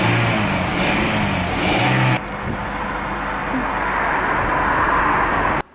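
A Toyota Avensis SR with its stock exhaust revs a couple of times, a mid-pitched engine rising and falling in short bursts before settling to a steady hum, then cutting off abruptly.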